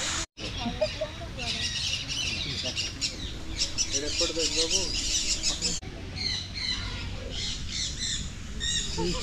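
Birds in a zoo aviary at Nandankanan Zoological Park in Bhubaneswar squawk and chirp continuously, with many overlapping calls close by and faint voices in the background.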